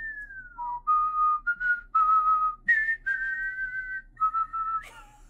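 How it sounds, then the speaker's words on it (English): Two people whistle notes in a wavering, halting tune, several short phrases with pauses between them, close and clear with no talking. "That was really bad whistling by both of us."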